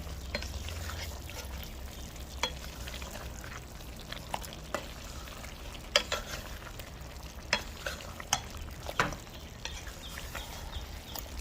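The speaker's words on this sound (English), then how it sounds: "We're gonna go ahead and add our golden ray butter. Just a little bit. I'll let that melt down in there. Stir it up." Butter melts into curry stew chicken in a pot, with a soft sizzle under close, intermittent scraping and clinking of a spoon stirring the stew.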